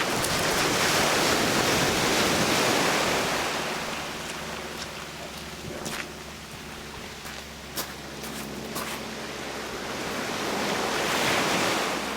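Sea waves and surf wash continuously at the shore, a loud broad rushing roar that eases midway then swells again, with occasional wind buffeting and faint clicks; no one speaks.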